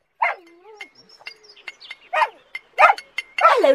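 A small dog yaps several times in short, sharp bursts, with bird chirps scattered between the barks.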